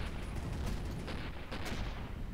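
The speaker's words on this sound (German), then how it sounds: "Oben explodiert irgendwas." Continuous rumbling blasts and crackling bursts from space combat in the game Avorion, several overlapping explosion thumps with sharper pops at intervals, loud and dense throughout.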